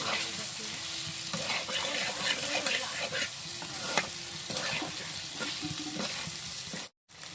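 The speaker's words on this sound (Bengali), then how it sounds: "একটুখানি মশলাটা আরেকটু ভাজা হবে, বাদামি কালার হয়ে এসছে।" Fried potatoes and green chillies sizzle in hot oil with spices while a spatula scrapes and stirs the pan, a steady close frying hiss broken by clacks of the utensil.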